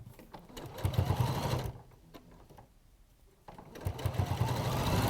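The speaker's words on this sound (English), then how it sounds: "I'm sewing along this line here" A sewing machine stitches a quilt in two bursts of rapid, close-up whirring, split by a short pause of near quiet.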